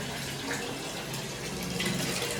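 A hotel bathroom tap in Goa runs hot water in a steady, moderately quiet hiss and splash that lasts the whole moment, with no talking.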